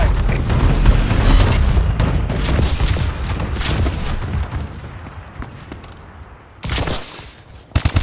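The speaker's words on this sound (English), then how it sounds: "Enemy bombing run overhead!" Bombing-run strikes in Call of Duty: Advanced Warfare team deathmatch on the Retreat map: a long rolling barrage of heavy explosions and booms mixed with gunfire, loud and sustained, thinning before a couple of sharp closing blasts.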